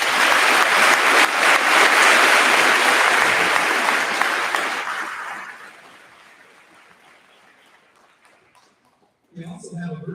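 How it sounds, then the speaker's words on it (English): A graduation audience in a high school commencement crowd gives loud, dense applause that fades away over several seconds, then a voice starts speaking at the end. "Please join me in giving him a round of applause and appreciation for all he does."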